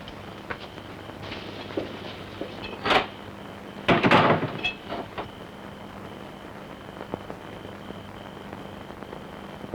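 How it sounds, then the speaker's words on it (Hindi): A door being shut indoors in a home: two dull knocking thuds a second apart, the second heavier with a brief rattle, then quiet room tone with no talking. "ये दरवाजा बंद कर लेना।"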